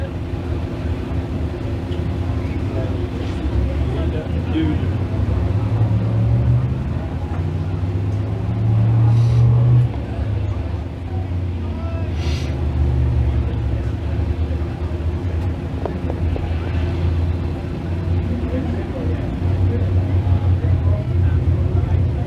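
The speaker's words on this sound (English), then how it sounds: "So Ken Klinkowski gets the car rolling once again." A small-block speedway stock car roars around the Can-Am Speedway oval during a six-lap heat race, a loud, steady engine drone that swells and eases slightly as it laps.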